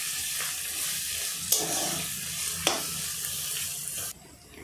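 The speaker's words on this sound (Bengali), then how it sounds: "পেঁয়াজগুলো ঠিক এইভাবে ভাজা হয়ে গেছে" Onions fry in a pan with a steady bright sizzle, broken by a couple of sharp stirring scrapes before the hiss drops away near the end.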